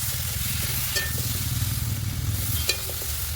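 Spices and vegetables sizzle steadily in a pan for a fish, brinjal and potato curry, with a continuous close frying hiss and occasional clinks of a stirring utensil.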